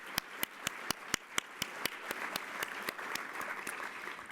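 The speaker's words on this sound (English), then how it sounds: "Please join me in one more round of applause for all of today's President Table guests" Luncheon guests at the Economic Club of Indiana give a round of applause: sharp, distinct claps ring out at first, then blend into a fuller, steady patter of many hands at moderate level.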